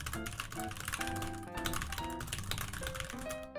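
Rapid, continuous clacking of fingers typing on a computer keyboard, close and fairly quiet, with dense irregular keystrokes and no voices.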